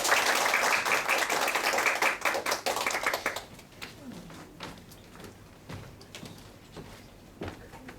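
Audience applause greets pianist Doğa Mutlu as she comes on stage at a piano festival in Pera. Dense clapping fills the hall for about three seconds, then fades to scattered claps and soft room noise.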